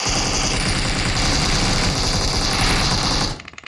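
Dense, continuous gunfire and engine rumble in a BGMI match, loud and sustained for over three seconds before cutting off abruptly into brief scattered clicks, with no talk.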